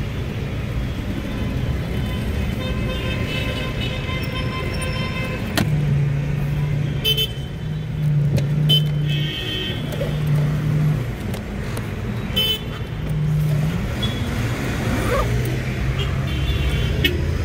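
Heavy street traffic in Cairo: a constant roar of car engines close by, punctuated by several short car horn honks spread through the stretch, with no talking over it.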